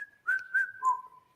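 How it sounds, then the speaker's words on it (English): A person whistles a short melodic phrase of a few sustained, gliding notes, clear and close, alone with no talking. "And sometimes I whistle it."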